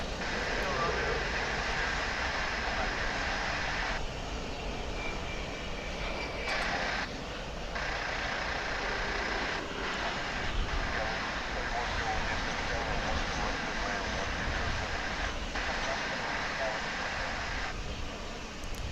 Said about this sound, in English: Amazing UPS MD-11.